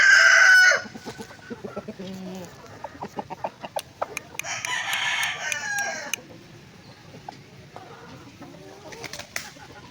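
Asil rooster and chickens give loud clucks and squawks, with a burst of harsher crowing-like calls in the middle and scattered pecking or wing sounds between, close by and without talk.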